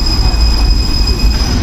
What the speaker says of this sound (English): You see, that's a tram.